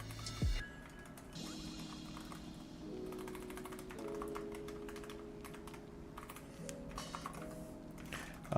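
Steady clatter of keys on a computer keyboard, close and continuous, with soft music underneath.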